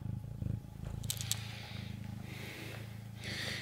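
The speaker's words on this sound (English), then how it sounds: "You're purring," A Bengal cat's soft, steady purr rumbles close by, with faint rhythmic breathing and a few light scratchy noises over it.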